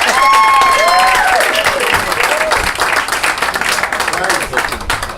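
A comedy club crowd at Cozzy's in Newport News, Virginia, bursts into loud, sustained applause for the host, with dense clapping and whooping voices rising above it before the noise eases slightly toward the end.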